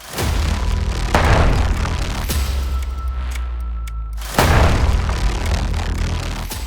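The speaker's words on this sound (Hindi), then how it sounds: "अचानक हिजबुल्लाह लड़ाकों के मोबाइल पेजर फटने लगे।" Explosions of Hezbollah fighters' pagers in Lebanon: several heavy booms, one near the start, another after a second and a big blast around four seconds, each leaving a long rumbling decay, with no voices.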